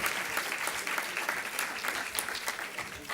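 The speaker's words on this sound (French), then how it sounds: "Je voudrais qu'on les applaudisse, ainsi que les autres intervenants." An audience at a conference session on international imbalances and demographics breaks into sustained applause, a dense even clatter of many hands heard from within the hall, fairly soft overall.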